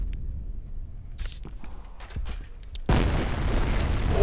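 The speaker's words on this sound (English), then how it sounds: "I guess an explosion got him?" A sudden deep video-game explosion booms midway, followed by a loud rumbling roar that carries on, after quieter scattered clicks and taps in a shooter game.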